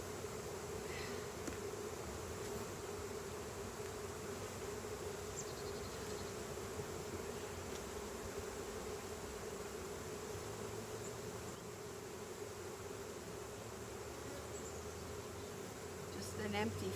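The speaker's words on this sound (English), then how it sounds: "Now we have very, very, very, very angry bees." Angry honeybees swarm and buzz around an opened hive during an inspection, a dense continuous droning hum that stays steady and close throughout, with faint voice traces underneath.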